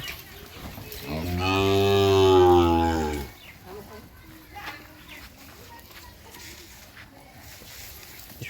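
A single long, loud moo from a nearby Sahiwal bull calf, lasting about two seconds, followed by quieter outdoor background noise.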